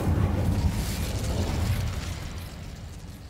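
An Incendio fire spell is cast in the Hogwarts Legacy video game, making a loud, roaring, crackling burst of flame. The roar fades gradually over a few seconds, with no talking.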